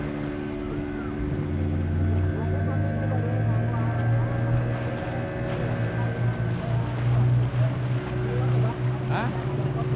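A Viking tourist boat motors off Pangandaran beach, its engine droning steadily with rising and falling pitch under wind noise and lapping water.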